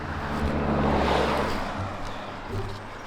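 A car passes along a road, its engine and tyre noise swelling to a peak and then fading away, heard from the roadside.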